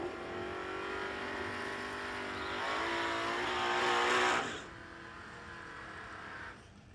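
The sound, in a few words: Camaro drag racing car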